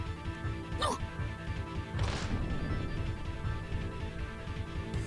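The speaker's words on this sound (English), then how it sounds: "An arm grabbed the back of the witch's head and smashed her face to the table." In the Umineko When They Cry visual novel, a single crashing smack of a face slammed onto a table lands sharply, preceded by a brief whooshing sweep, over a steady low background hum.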